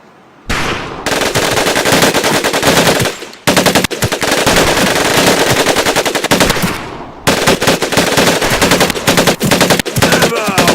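Loud automatic weapon fire in short, repeated bursts from the video game Medal of Honor: Pacific Assault, during a training camp mission, with brief pauses between volleys and no talk.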